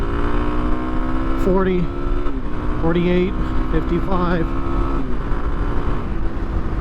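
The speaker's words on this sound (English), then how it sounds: "Alright, let's do a little acceleration and braking here. Full power." A 2024 Kawasaki KLX300 motorcycle accelerates hard at full power, its engine pitch climbing, dropping at each gear change and climbing again three times. The engine stays loud and close while a man calls out numbers over it.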